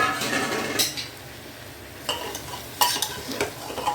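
A spatula scrapes and stirs marinated chicken as it fries and sizzles in a pressure cooker, with a steady frying hiss and a few sharp metallic scrapes against the pot.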